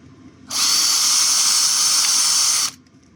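A power drill whines loudly for about two seconds as it bores through a van or RV's metal body while installing solar panels, starting and stopping abruptly.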